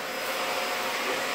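A vacuum cleaner runs steadily while cleaning out a disassembled Samsung front-load dryer, a loud constant airy roar with no pauses.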